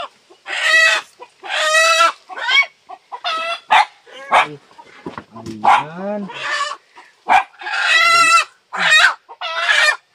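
Chickens cluck and squawk loudly in repeated bursts close by, with a person speaking briefly among them.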